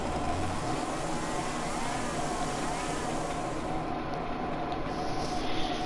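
Nissan Skyline engine in the video game Gran Turismo Sport, a steady loud drone of a car running at speed with constant road noise and no talk.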